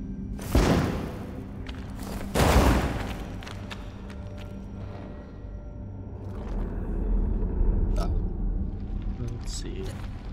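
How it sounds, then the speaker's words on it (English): A bomb goes off on a rubble pile in the survival game Enshrouded, with two heavy booming blasts trailing into low rumble over quiet game ambience. "Let's just use a bomb."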